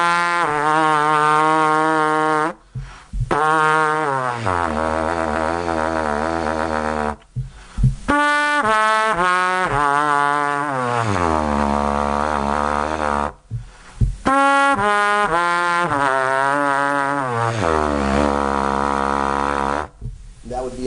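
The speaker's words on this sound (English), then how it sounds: "let me demonstrate the double pedal tones for you so you know what I'm talking about" A brass player buzzes very low double pedal tones in a scale pattern, droning rough notes stepping through pitches in phrases separated by brief breaths, with slides downward, close and fairly loud with no talking.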